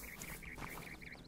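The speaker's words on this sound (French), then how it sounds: "Ça, c'est dindon." Wild turkey in theHunter: Call of the Wild calling with a rapid series of short nasal gobbling notes, faint and distant, repeated about six times in quick rhythm with no talk.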